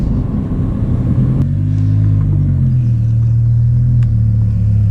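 A Lamborghini Huracan rides along with a steady, loud low engine rumble and a brief upward shift in pitch partway through, heard from inside the car, with no talking.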